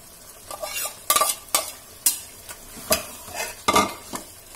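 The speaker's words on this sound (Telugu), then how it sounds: "ఇప్పుడు దీనిలో ఈ మటన్ వేసుకొని కాస్త వేగనివ్వాలి" Mutton with masala and garam masala fries in a pan for pulao, with a soft sizzle under repeated scraping stir strokes, about eight distinct scrapes at an uneven pace, close and fairly loud.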